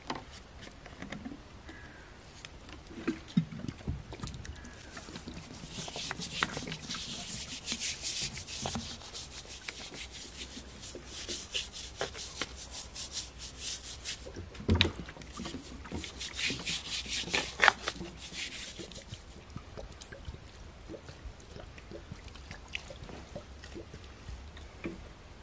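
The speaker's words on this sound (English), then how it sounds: "I brought some water and a little brush" Small brush scrubbing a surface with water, a steady close rasping and swishing that continues throughout with a few louder strokes.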